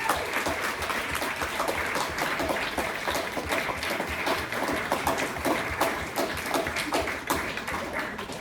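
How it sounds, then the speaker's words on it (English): Wedding guests applauding the bridesmaids at a reception during the best man's speech, dense sustained clapping from a crowd filling the room, steady and fairly loud throughout. "Can we get a big round of applause for the bridesmaids?"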